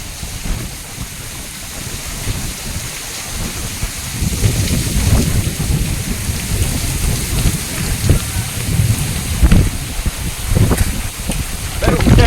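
Heavy rain pours steadily around a fishing boat out at sea, with broadband hiss and low rumbling gusts that swell louder midway; a voice talks intermittently under the downpour, while thunder is not clearly distinct.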